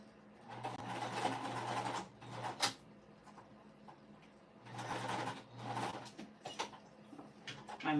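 A home sewing machine stitches a pet bandana in two separate bursts of close, buzzing mechanical whirring, with quieter gaps between them.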